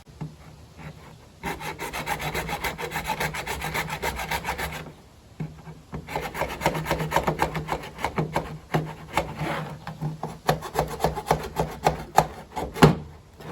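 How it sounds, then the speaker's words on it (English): A hand file rasps a small groove into the wood of a rodent trap near its trigger mechanism, with steady rapid back-and-forth strokes in two long bursts separated by a short pause, close and fairly loud, with no talking. "I'm just going to grind a little slot in here with this file"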